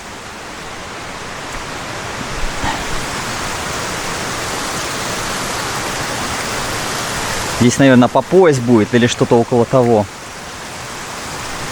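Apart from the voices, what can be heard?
rain falling on a natural pool in Camiguin, Philippines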